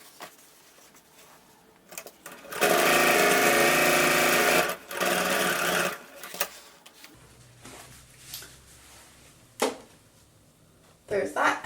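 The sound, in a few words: sewing machine stitching a row on cardigan sleeve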